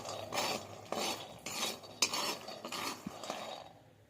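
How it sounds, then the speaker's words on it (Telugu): Peanuts are stirred while dry-roasting in a pan, giving a series of close scraping and rattling strokes about every half second, fading out at the end. "పల్లీలు వేసుకొని దోరగా వేయించుకోవాలి."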